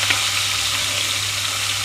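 Onions, green chillies and curry leaves hit hot oil already tempered with chana dal and urad dal for a baby potato and egg pulusu. A close, steady, even sizzle carries on throughout with no talking.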